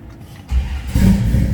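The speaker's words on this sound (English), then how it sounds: "See how easily it starts." A 1973 Dodge Charger with a lively cam starts up: a short starter churn, then the engine catches into a loud, deep rumble close by, and no one speaks.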